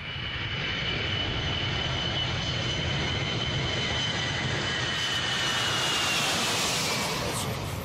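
A military transport aircraft drones steadily with a broad engine roar and a thin high whine, loud and constant throughout, with no voices.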